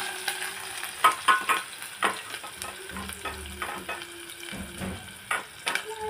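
Onion and green chillies frying in oil with mustard and cumin seeds for a bottle gourd curry, a quiet sizzle under repeated close spatula clinks and scrapes against the pan, with no talking.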